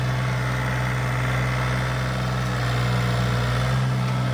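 A mini tractor engine runs steadily nearby, a loud, even mechanical drone with a strong low hum and rattling vibration that holds unchanged throughout.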